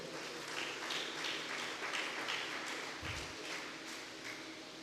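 A church congregation applauding during a service, a faint, steady patter of many hands clapping together, distant and continuous with a brief low thump partway through.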